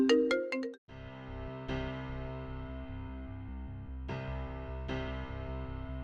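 A phone call rings out through the earpiece with a repeating electronic melodic ringback tone, steady and clear after a short burst of dialing tones, with no talking.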